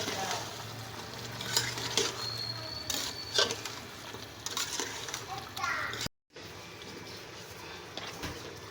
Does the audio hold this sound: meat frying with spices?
yes